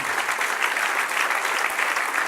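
A church congregation claps for the Lord during a worship service, a dense, even wash of many hands that carries on without a break and without talk.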